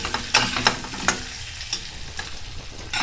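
Potato pieces frying with salt and turmeric in a wok, a constant close sizzle with several sharp scraping stirs spaced a second or so apart.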